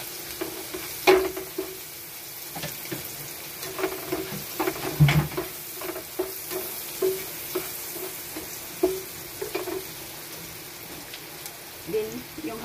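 Garlic frying in a pan for a creamy pork tenderloin with mushroom, a soft continuous sizzle broken by intermittent stirring scrapes and clinks, fairly close and moderately quiet.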